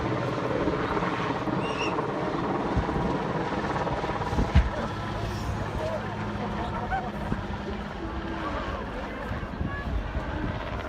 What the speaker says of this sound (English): This helicopter dropping a car in Iceland.